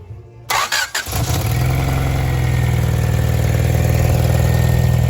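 A 1994 Honda Accord engine, its distributor seals newly replaced, cranks briefly with a few sputtering bursts, then catches and settles into a steady, loud, low idle.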